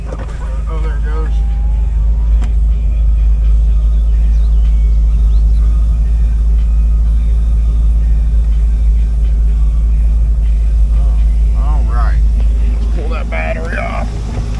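A 2004 Chevrolet Corvette Z06 with the 5.7L LS6 V8 idles at a salvage yard, a deep, loud, steady rumble throughout with brief voices over it near the start and end.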